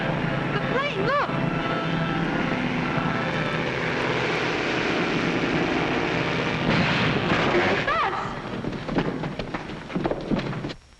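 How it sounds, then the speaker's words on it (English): A 1940s-era propeller airplane drones steadily overhead near timber country, a loud continuous engine roar with shouted voices over it and rushing water beneath. "The plane, look!"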